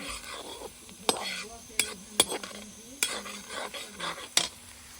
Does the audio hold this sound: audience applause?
no